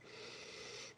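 A single quiet, sustained sniff of breath drawn in through the nose, close and soft, lasting about a second.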